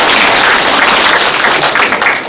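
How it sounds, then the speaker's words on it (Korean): Audience applause thanking the director at the evaluation report for the 10th Jecheon International Music & Film Festival: loud, dense clapping that fills the whole stretch and eases slightly toward the end. "한번 대표로 한번 감사의 박수 한번 보내주시기 바랍니다"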